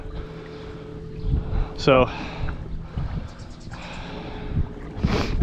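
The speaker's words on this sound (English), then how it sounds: "There's a lot of wind." Wind buffets the microphone on a boat out on the California Delta during a bass fishing trip, gusting in uneven rumbles while someone talks and brief sharp noises break through.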